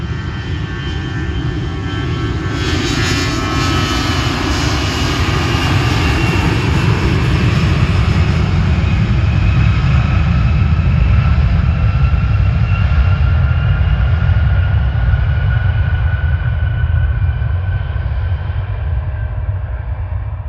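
A United Boeing 737-700 airliner passes close by at Cleveland's airport on a foggy evening. Its loud jet engines give a steady, deep roar with a whining hiss that holds for the whole stretch, with no voices.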